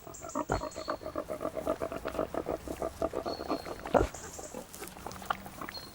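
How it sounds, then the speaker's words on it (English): Pigs foraging for acorns and beech mast in a forest grunt and snuffle repeatedly in quick bursts close by, with a couple of louder squeals, a busy rooting chorus outdoors. "Their pigs are turned loose in the forest to forage on acorns and beech mast"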